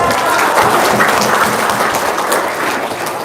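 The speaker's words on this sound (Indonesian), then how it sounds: "Tepuk tangan dong." Audience applause at a seminar-style talk, a steady, dense wash of clapping filling the room throughout, with faint voices mixed underneath.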